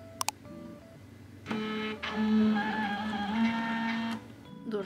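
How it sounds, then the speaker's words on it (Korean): A label printer in a home kitchen runs for about two and a half seconds after a couple of sharp button beeps, giving a steady whirring, buzzing hum before stopping and a final beep. "보관해둔 소스통에다가 라벨 프린터를 이용해서 정리할 거예요."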